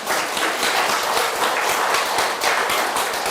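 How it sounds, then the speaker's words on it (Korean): A church congregation at a Sunday worship service breaks into brisk, loud applause, with many hands clapping in a dense, slightly rhythmic patter that continues steadily from start to finish without talk. "박수 한번 부탁드립니다."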